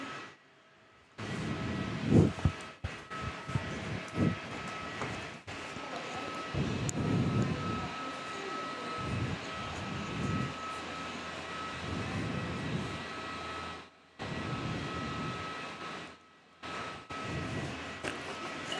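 A South African Airways Airbus A340 four-engine jet aircraft rumbles steadily at an airport terminal, a sustained broad engine roar with a faint high whine, distant and continuous with brief dips.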